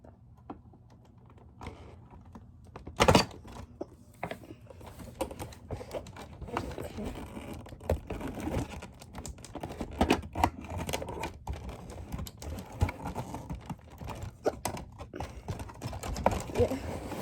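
Scissors snipping through hard plastic packaging during a surprise unboxing: scattered sharp clicks and cuts, one loud snap early on, with a person talking quietly throughout.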